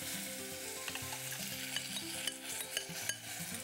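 Sauce added to a hot pan while cooking Korean seafood dishes, with a steady sizzle and frying hiss, light stirring scrapes and small clinks throughout, close and fairly quiet, no voices.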